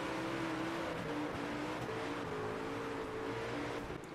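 Dirt track race car engine in World of Outlaws dirt racing, a steady droning roar with slight throttle variation, held close and continuous, no talking over it.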